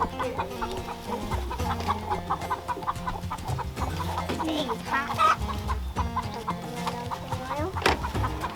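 Hens on pasture at a chicken farm clucking and murmuring continuously, several birds close by with overlapping calls and a few louder squawks, no talking.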